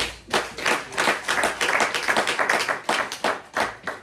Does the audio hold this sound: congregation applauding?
yes